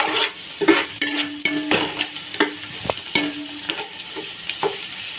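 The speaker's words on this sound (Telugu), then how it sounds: "అవి కూడా వేసేసుకొని ఒకసారి తిప్పుకుందాం" Fried onions and biryani masala being stirred in a hot pan: a spoon scrapes and clatters against the metal in repeated strokes over a continuous sizzle, close and fairly loud.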